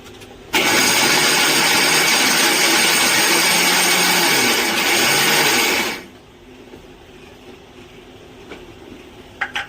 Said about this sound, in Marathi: मिक्सरच्या भांड्यातही बारीक होते